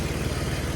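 A 2002 BMW 530i E39 engine idling with the hood open, close and loud, giving a steady, even rumble with a fine rhythmic pulse for under a second.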